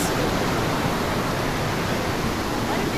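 Steady, loud broadband rush of a river current and waterfall in Tochigi, Japan, a dense unbroken roar filling the whole stretch with no pauses.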